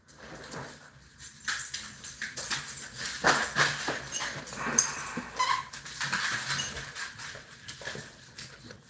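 Dogs shuffle and patter around nearby, with soft whimpers and scrabbling paws as they try to come up and play, in a room where flies are being tied.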